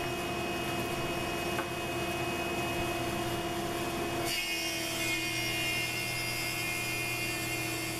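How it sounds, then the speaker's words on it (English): A thickness planer with a spiral cutter head shaves wood. The steady, close mechanical hum is loud throughout and shifts in tone partway as the board feeds through. "So, here we are just planing the thickness of the wood now."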